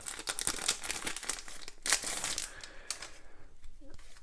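A small plastic pouch of large game cards for a board game torn open and handled, a run of close crinkling and crumpling with sharp tearing bursts, fading toward the end.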